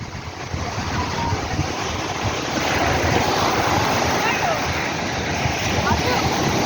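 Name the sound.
sea waves and wind at sea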